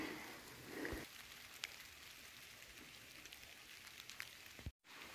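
Steady rain patters on surfaces nearby in Mukteshwar, a soft continuous hiss with scattered droplet taps and no speech.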